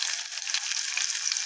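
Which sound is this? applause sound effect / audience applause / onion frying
onion frying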